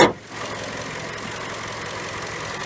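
A 2019 Toyota RAV4 LE with a 2.5-liter engine idles under its open hood, a steady, close mechanical hum after a brief loud knock at the start, with no talking.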